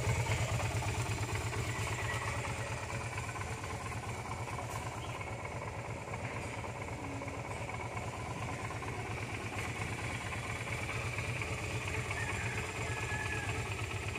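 A Yamaha Virago 250 V-twin motorcycle engine runs steadily with a low, even, throbbing rumble and a faint mechanical clatter, fairly quiet and unbroken throughout.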